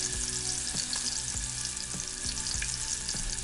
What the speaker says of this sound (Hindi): एक एक वड़ी डाल के मैंने इन्हें फ्राई कर लिया है